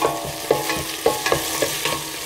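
Onions fry in plenty of oil for a broccoli cream soup while a spoon stirs them in short, regular strokes, giving a close, continuous sizzle with soft scrapes and taps.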